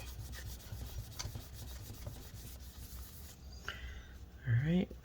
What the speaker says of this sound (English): Takes quite a bit of elbow grease, but just keep rubbing at it and you'll eventually get it all out.